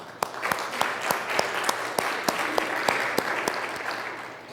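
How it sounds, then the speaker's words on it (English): Applause for two people at a church service: a steady round of many hands clapping, dense and continuous with individual sharp claps standing out, fairly close and alone without talk. "Nancy and Louis, they deserve another round of applause"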